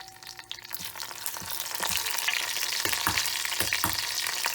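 Mustard seeds, red chili flakes and curry leaves sizzling in hot oil for a tempering, with loud, continuous frying crackle, sharp pops and stirring clicks that grow after the first second.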